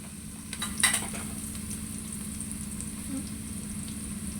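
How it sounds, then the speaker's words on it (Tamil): Something sautéing in a pan just after salt is added, giving a steady soft sizzle with a few brief stirring scrapes near the start, close and fairly quiet, no talking. "இது கொஞ்ச நேரம் வதங்கட்டும்"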